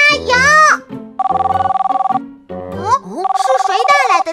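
A cartoon telephone rings in two bursts of rapid, bright electronic trilling, each lasting about a second, with animated character voices talking before and between the rings.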